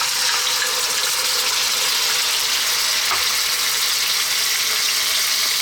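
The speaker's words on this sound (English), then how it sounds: "We're going to start off by dropping in our onion." Onion dropped into hot olive oil in a pan sizzles loudly and steadily, a dense constant hiss close by with no talking.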